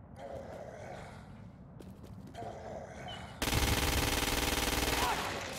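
Assault rifle gunfire in the video game Crackdown 2, a sudden rapid automatic burst that starts about midway and runs loud and continuous for two seconds, preceded by quieter game ambience and breathy sounds.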